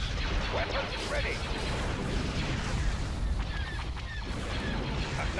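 Units in the Star Wars Empire at War space battle fire their weapons on a single target, making a dense mix of booms, blasts and pops over a low rumble, with speech coming and going over the din.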